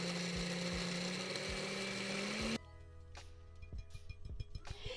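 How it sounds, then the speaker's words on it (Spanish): A blender grinds cookies into crumbs for a no-bake dessert, a loud steady whirring motor for about two and a half seconds that then cuts off, leaving quieter clatter and scattered knocks. "Pues ahora sí voy a moler la galleta"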